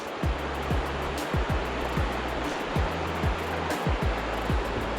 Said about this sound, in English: This is David, and Andy making their way down the river.